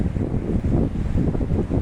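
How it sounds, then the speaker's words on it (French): Wind blows by the sea at a small harbour on a morning with a light breeze, heard as a constant low rumbling buffet of gusts against the microphone, close and fairly loud, with no voices. "Et là ce matin, il y a un peu de vent, mais ça souffle moins."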